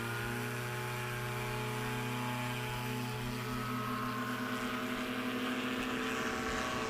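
A Chinook STOL aircraft in the Unlimited class takes off at Patriot Airpark, Oklahoma, its engine and propeller making a steady, loud droning hum that holds throughout, with a slight rise in roughness toward the end.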